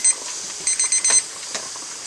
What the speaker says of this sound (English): Once your timer goes off